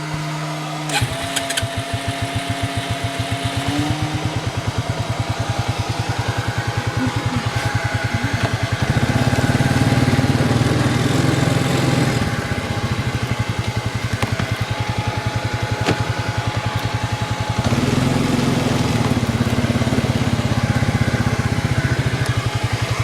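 A 2002 Arctic Cat 300 ATV engine cranks with a rapid chugging, catches and settles into a steady, loud idle, its revs swelling briefly twice as the throttle is blipped, with no talking over it.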